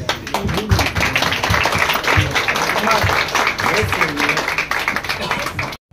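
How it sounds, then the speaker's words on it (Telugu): An audience at a Christmas celebration in Palamaner claps together to welcome guests, a loud, dense, continuous round of applause with voices mixed in. "అందరు కలిసి చప్పట్లు కొడుతూ వారిని ఆహ్వానిస్తూ"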